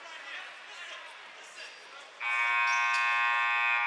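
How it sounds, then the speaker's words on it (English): Gym buzzer at a boys high school basketball game, Waconia vs Benilde-St. Margaret's, sounding one long, steady, loud electronic tone partway through after a quieter stretch of crowd murmur. "All right, now there's the buzzer."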